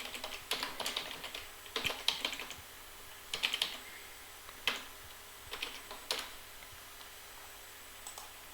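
Login username and password typed on a computer keyboard: irregular bursts of crisp key clicks with short pauses between groups, fairly quiet and close, no voices.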